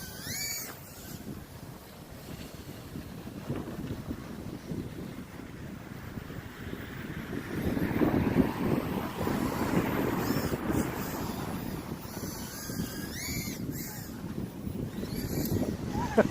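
Outdoor wind buffets the microphone while a small Eachine Trashcan quadcopter drone is flown, a continuous rough low roar that strengthens in the second half, with faint high whining tones drifting in and out.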